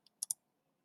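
A computer mouse clicked: a faint tiny tick followed by two quick, crisp clicks close together in an otherwise quiet room.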